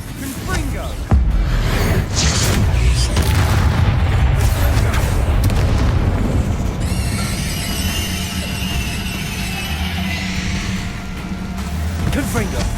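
Confringo fire spell explosions in the Hogwarts Legacy video game, heavy booming blasts rolling into a loud sustained rumble with bursts and pops, then a bright ringing shimmer over the fading roar.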